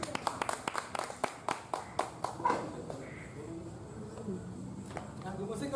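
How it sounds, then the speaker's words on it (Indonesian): Scattered claps from an audience at a literary evening, a dozen or so distinct sharp hits in the first two and a half seconds before thinning out under a murmur of chatter and a voice. "Adelia Prabandhanti, tepuk tangan yang meriah."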